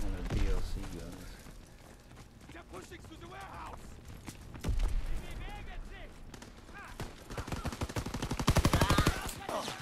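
Gunfire from a DLC weapon in Call of Duty WW2 multiplayer, rattling in bursts that grow into a loud rapid volley near the end, mixed with other game sounds and someone talking over it.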